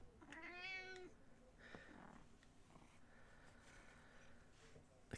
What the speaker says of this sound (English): The cat wants to get on the air.